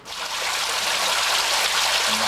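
Flood water pouring into the basement of the Benham Center, a downtown business near a river, during the 1996 flood: a steady, dense rush and gurgle of flowing water that stays loud and close throughout.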